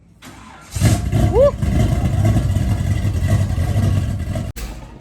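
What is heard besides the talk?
Box Chevy engine with a heavy cam starting and revving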